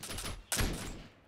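A musket line fires a volley in Mount and Blade II: Bannerlord battle, scattered shots rolling into one sharp loud crack about halfway through, then a fading rumbling tail.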